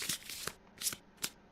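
Cards for the board game Kingdom Death are riffle-shuffled three times in quick succession, each shuffle a short, crisp, close burst of fluttering card edges with brief pauses between.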